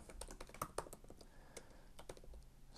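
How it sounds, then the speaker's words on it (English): Rapid, light clicking of keys on a computer keyboard, steady and close, with no talking. "just typing this out"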